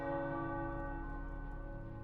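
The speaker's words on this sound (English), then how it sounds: "The tower bells are ringing." Church tower bells in the video game Midnight Suns ring loud and sustained, their overlapping tones humming steadily throughout with no talking.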